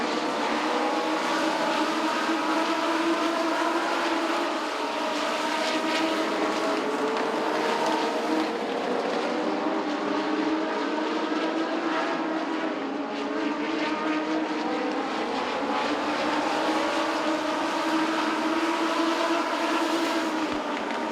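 Legends race cars roaring around Southside Speedway, engines droning loudly and continuously with pitch rising and falling as the pack passes, no voices over the noise.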